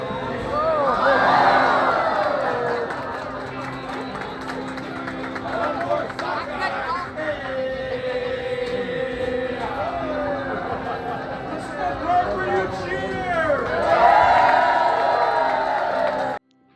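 A busy, loud crowd fills the Seattle farmers market: dense overlapping chatter and shouting voices, with occasional louder calls and whoops rising above the steady din.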